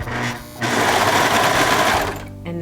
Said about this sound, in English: keep sewing down this side seam